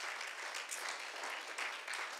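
A church congregation applauds during a Wednesday evening service, a soft, steady wash of many hands clapping heard from a distance.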